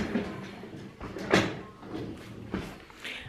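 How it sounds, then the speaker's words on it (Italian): A chair is dragged and shifted indoors in a home being cleaned, giving several scraping, knocking bursts over about three seconds, fairly close and moderately loud, with no talking. "sto spostando qui la sedia, se riesco"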